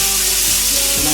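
Daing, dried fish, frying in a pan with a steady, loud, dense sizzle that hisses without pause and with no one talking.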